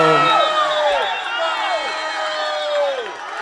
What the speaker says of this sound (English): And you hear the crowd into it too after the goal.